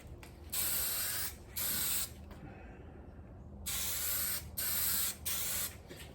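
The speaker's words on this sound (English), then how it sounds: "Just go ahead and spray it." Adhesive is sprayed from a can onto upholstery material for a car door panel, in a series of short, close hissing bursts separated by quiet gaps, with one longer pause in the middle.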